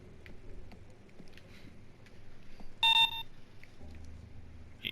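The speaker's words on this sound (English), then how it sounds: "You hear that? That's the beeping noise." Pager beeping in the Payday 2 stealth heist game, a sharp electronic tone sounding once in a quick short burst amid quiet game ambience and faint clicks.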